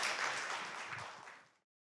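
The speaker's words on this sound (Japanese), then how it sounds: "先生に大きな拍手をお願いいたします。" Applause from a small-hall audience at a traditional Japanese dance (nihon buyō) recital, a steady wash of clapping that fades out after about a second and a half, with no talking over it.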